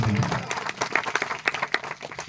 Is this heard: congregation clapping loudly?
yes